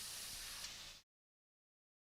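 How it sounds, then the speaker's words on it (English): An airbrush sprays white paint with the trigger pulled fully back for maximum flow, a steady close hiss lasting about a second before cutting off abruptly into silence, followed by a brief burst at the very end. "Trigger all the way back. Max spray."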